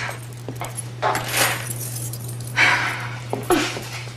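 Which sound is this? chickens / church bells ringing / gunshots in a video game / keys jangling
keys jangling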